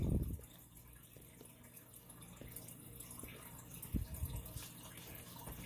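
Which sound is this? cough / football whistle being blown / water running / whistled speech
water running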